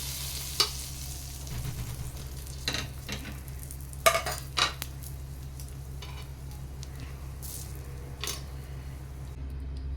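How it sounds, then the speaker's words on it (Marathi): Pav bread toasting in butter on a tawa used for a chicken cheese omelette, a steady close sizzle with a constant low hum beneath and a few sharp scrapes and taps from a utensil, with no talking. "ह्याच तव्यावरती ना मी बटर लावते, पण ह्याच्यावर आता पाव भाजून घेऊया."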